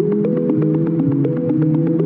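A Vongon Replay synth running a sequence: a quick, steady stream of short plucked tones with a repeating melodic pattern over a held lower drone, loud and alone.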